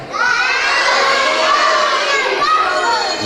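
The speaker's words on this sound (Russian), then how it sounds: "Так, ну-ка погромче кричите." A packed hall of children shouts loudly and continuously at a New Year tree party for kids in a house of culture, the crowd noise sustained and near for the whole stretch.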